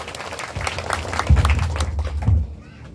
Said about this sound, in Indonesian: tepuk tangan sami